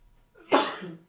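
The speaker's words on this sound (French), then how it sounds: "Excusez-moi, j'en éternue" One sharp, close sneeze with a quick intake before it and a breathy tail afterward.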